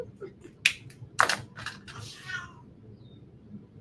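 A kitten meows a few times close by, with two sharp bursts and a softer trailing cry over quiet room noise, no speech.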